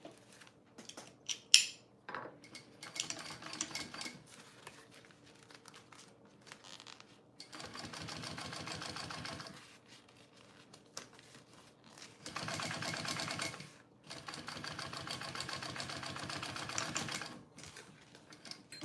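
A sewing machine top stitching a small bowler bag runs in several bursts of rapid mechanical stitching, each a couple of seconds long, separated by pauses with light handling and fabric rustles.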